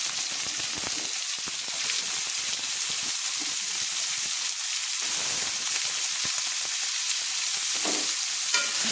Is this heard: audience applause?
no